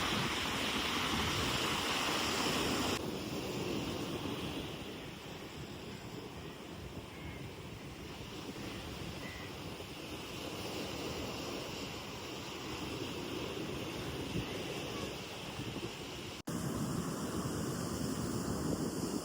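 Waves roll onto a beach beside a backwater, with a sea breeze, a continuous broad wash of surf and wind rumble buffeting the microphone, steady throughout with no talking.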